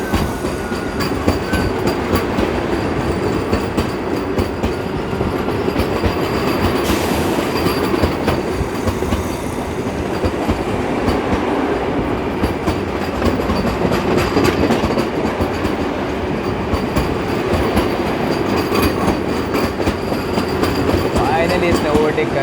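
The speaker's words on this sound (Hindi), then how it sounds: "फाइनली इसने ओवरटेक कर दिया ही कर दिया जनशताब्दी एक्सप्रेस को।" An Indian express train overtaking the Janshatabdi Express, heard as a steady loud rumble of rolling wheels with rhythmic clickety-clack and faint wheel squeal, sustained and close for the whole stretch.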